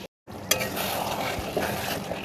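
Chicken sizzles while being sautéed (kosha) in a pan, a close, continuous crackle of frying oil with small stirring scrapes after a brief moment of silence.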